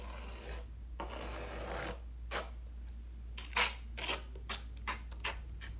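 A spackle knife spreads tile adhesive across a kitchen floor for porcelain tile, making raspy scraping strokes, several long smears followed by quicker short swipes and taps, close and fairly quiet over a steady low hum.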